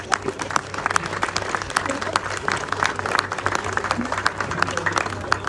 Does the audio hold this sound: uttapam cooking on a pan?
no